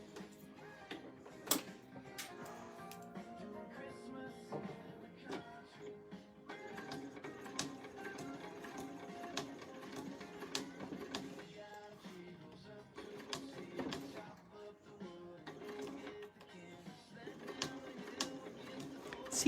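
A sewing machine that is acting up runs slowly while stitching a quilting design board, giving a steady, dense mechanical whir and ticking, with a voice talking quietly now and then.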